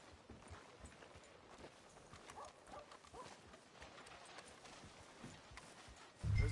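Horse hooves clip-clop at a steady walking pace in a video game, faint and continuous with no talk, before a sudden louder low thump at the end.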